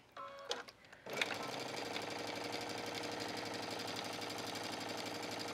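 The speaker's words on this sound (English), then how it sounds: "I'm just going to stitch this" A sewing machine stitches a denim jean shirt, starting after a few handling clicks and then running in a fast, continuous, even mechanical clatter close by.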